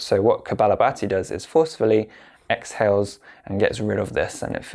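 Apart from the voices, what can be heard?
None of the usual background noises is heard.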